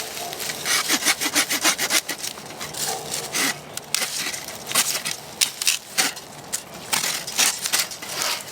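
A Zippo 4-in-1 Woodsman folding handsaw cuts through wood with steady, rapid back-and-forth rasping strokes. The close, scratchy sawing runs continuously with brief pauses between bursts.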